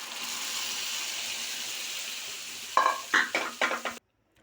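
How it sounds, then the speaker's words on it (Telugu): Dal poured into a hot pan of fried dried red chillies and curry leaves for tomato dal: a steady close frying hiss, then a few sharp splashy sizzle bursts before it cuts off to silence. "ఎండుమిర్చి, కరివేపాకు ఫ్రై అయిపోయింది. పప్పు పోసేసుకున్నాం."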